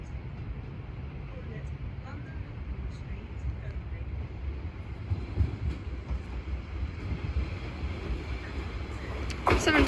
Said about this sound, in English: Now arriving is the 11:35 London Overground service from London Liverpool Street to Chingford,